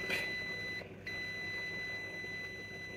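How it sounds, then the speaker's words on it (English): A steady high-pitched multimeter continuity beep holds continuously, briefly cutting out once, over faint background noise, as probes test a shorted power rail on a laptop motherboard. "if I touch my multimeter probe here, it is giving beep both sides."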